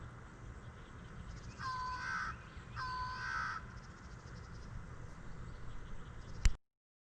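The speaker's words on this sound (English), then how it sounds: "Big crow too." A large crow in a tree at Colt Creek State Park campground gives two harsh caws, each a short doubled burst, over steady outdoor ambience, followed by a sharp click at the end.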